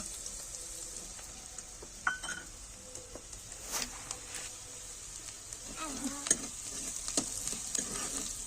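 Ingredients for eggplant bharta roasting in a frying pan, a steady faint sizzle with intermittent scrapes and clinks of stirring, a few sharper knocks against the pan.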